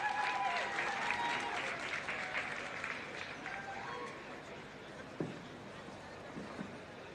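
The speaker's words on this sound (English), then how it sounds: "Another round of applause" Outdoor crowd applauding a self-defense display at a National Police Day event, clapping strongest at first and thinning out, with voices and a few thuds mixed in.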